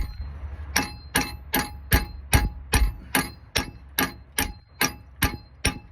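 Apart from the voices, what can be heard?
hammering an old broken socket used as a punch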